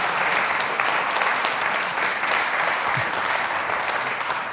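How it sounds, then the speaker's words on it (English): Sustained, full applause from the audience at a community awards event in Lichfield, steady and loud throughout with no speech over it. "So let's have another round of applause for Alison Wellen there"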